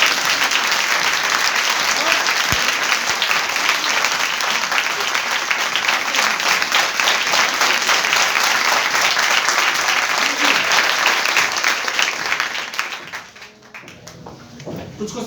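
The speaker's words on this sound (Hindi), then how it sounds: "तो एक बार जोरदार तालियां बजा दो अपने लिए।" A training-session audience bursts into loud, sustained applause for themselves, a thick roar of many clapping hands running on for several seconds before tapering off abruptly into a quieter room with scattered sounds.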